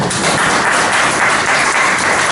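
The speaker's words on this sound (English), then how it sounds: "So you can clap your hands for the product." Steady, dense applause from an audience at a product knowledge presentation, loud and continuous throughout with no talking over it.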